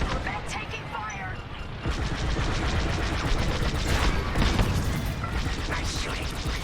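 Starfighter blaster fire in Star Wars Squadrons during a space battle, dense rapid bursts of laser shots layered over engine roar and explosions, loud and continuous with a brief quieter opening.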